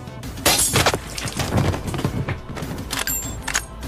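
Sniper rifle gunshots in an action scene of a sniper team rescuing a hijacked school bus in Somalia: a dense, loud barrage of sharp cracks and shattering bangs that keeps going throughout.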